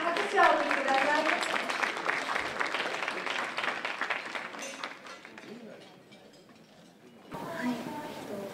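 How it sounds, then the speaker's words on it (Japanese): An audience at an award ceremony applauds with sustained clapping that fades out, then swells again as a fresh burst near the end. "大きな拍手をお送りください。"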